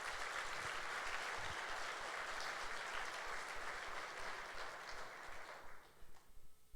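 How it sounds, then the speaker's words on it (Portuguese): A church congregation at a Sunday service claps together in a sustained, dense wash of applause that thins out and fades near the end, leaving a few scattered sounds. "dá um aplauso a Jesus"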